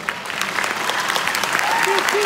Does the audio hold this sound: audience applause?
yes